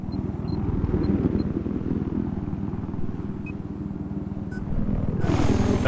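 A helicopter in Battlefield 4 on the Zavod 311 map makes a steady, close, low rotor rumble with rapid pulsing thumps. It grows slightly louder near the end, with faint game effects scattered over it.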